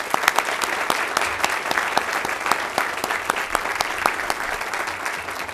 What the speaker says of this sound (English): So let's give these students a round of applause.